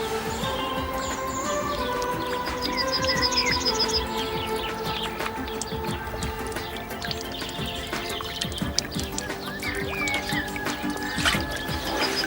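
Water drips steadily from an improvised survival water filter into a container outdoors, a dense patter of small drops with faint birdsong behind it.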